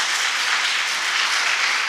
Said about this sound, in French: écoutez la foule, écoutez votre foule